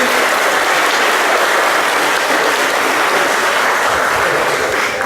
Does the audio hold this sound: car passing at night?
no